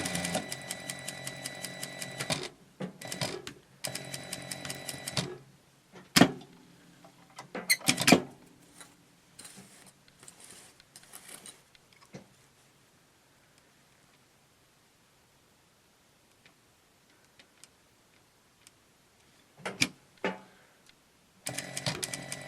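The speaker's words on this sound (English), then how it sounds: "Now we're going to sew 1/4 inch seam to our mark, back stitch, move up, and do our other side." A sewing machine runs a quarter-inch seam with back stitching on a reusable face mask at a stitch length of about 2.5 to 3, in short, separate runs of whirring, then soft clicks and a long quiet stretch.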